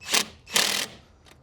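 A cordless impact wrench gives two short bursts while lightly snugging the alternator bolts on a 2003 Subaru, followed by a faint brief third whir, close up with no talking.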